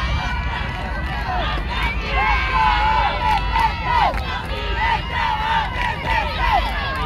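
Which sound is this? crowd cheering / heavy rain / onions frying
crowd cheering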